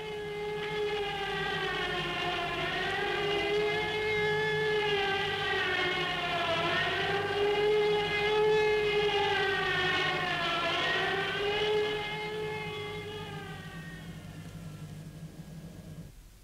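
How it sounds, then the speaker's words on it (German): Civil defense sirens in Hamburg wail during a nuclear war alarm drill, a loud sustained rising and falling tone that swells and slowly fades, with no talk. "Und während hier die Sirenen heulten"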